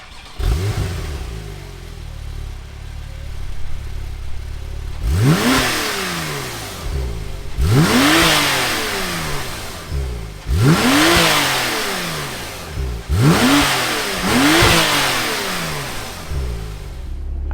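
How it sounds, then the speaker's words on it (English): A 2017 Porsche 911 Turbo engine starts and then revs repeatedly, several loud rising and falling blips spaced a couple of seconds apart over a steady idle, close by with no talk. "Let's fire up this 911 turbo and hear what it sounds like."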